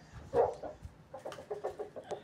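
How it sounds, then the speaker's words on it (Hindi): Several chickens clucking and squawking nearby in short, irregular bursts, with one louder squawk early on. "अभी ये यहाँ पे मुर्गे हैं"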